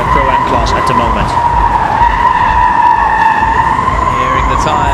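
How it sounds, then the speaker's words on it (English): Jaguar I-PACE eTROPHY electric race cars at the Ad Diriyah E-Prix, tyres squealing in a loud, sustained whine as they work through a corner, steady throughout under a race commentator's voice. "Hearing the tyres squeal as they make their way through, and Brian Sellers still right up behind Sim"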